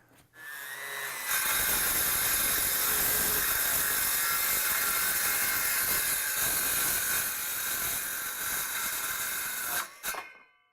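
A power saw cuts wood to make table legs, spinning up and then running at a loud, steady whine through the board for about nine seconds before winding down abruptly, heard close and alone.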